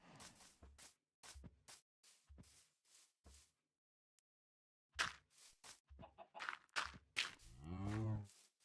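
A cow moos in Minecraft after a series of short clucks and game sounds, ending with a long, low, drawn-out bellow close and clear.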